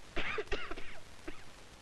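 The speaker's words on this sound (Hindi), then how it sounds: "तो मुझे खांसी आने लगती है।" A few short, soft coughs and throat-clearing sounds heard up close in a quiet setting.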